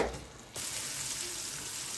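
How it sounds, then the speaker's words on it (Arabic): Two butter cubes land in hot caramelized sugar and start sizzling, a soft steady hiss that begins after about half a second and carries on quietly, close by. "خلاص كده السكر كرمل معايا، هنزل بمكعبين زبده عليه"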